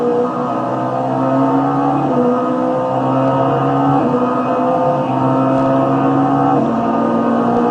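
Loud, continuous roar of touring car engines accelerating off a corner at Mid-Ohio, with droning harmonics that shift slightly in pitch as the cars power along, steady and close.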